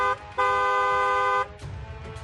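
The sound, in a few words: vehicle horn honking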